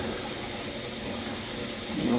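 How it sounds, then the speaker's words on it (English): Water is poured into a kitchen sink with a leaking faucet and drain, making a steady rushing splash that swells slightly toward the end, with faint talk. "Get some water in there and try it now. I'm dumping the water now."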